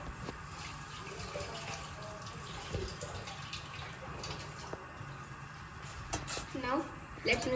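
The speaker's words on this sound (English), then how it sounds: "I'm going to add water" Water being poured into a pot to make tea, a soft, steady trickle under a quiet background, growing louder near the end.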